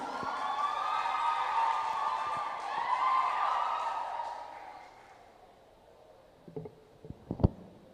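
Hall audience at a live church-district contest in Ambon claps to welcome contestant number 15, a broad sustained wash of applause that swells and fades, followed by a few sharp isolated claps near the end.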